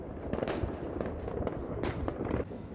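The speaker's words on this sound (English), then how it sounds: "look at the fireworks displayed because the Norwegians are going berserk" New Year's Eve fireworks over a Norwegian city: a dense run of sharp bangs and crackling bursts going off rapidly and loudly, with no talk.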